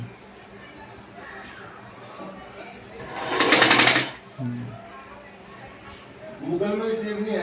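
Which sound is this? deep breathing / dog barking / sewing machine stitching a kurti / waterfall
sewing machine stitching a kurti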